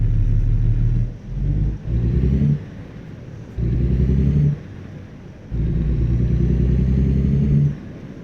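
Peterbilt 579 truck engine in American Truck Simulator, a deep steady rumble that climbs in pitch through three acceleration pulls with brief dips as it shifts gears, loud and close.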